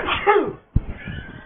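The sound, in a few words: sneeze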